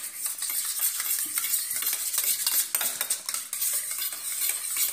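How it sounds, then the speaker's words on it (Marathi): Curd being whisked with coriander powder, turmeric and salt in a bowl: a steady, busy scraping and clinking of a utensil against the bowl, close and continuous, with no talking. "हे याच्यामध्ये दही फेटून घेऊया"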